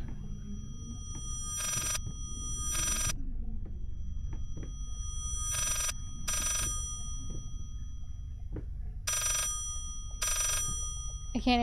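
A telephone rings in the horror video game Layers of Fear, with bursts of ringing repeating in pairs over a low ambient rumble and no talk.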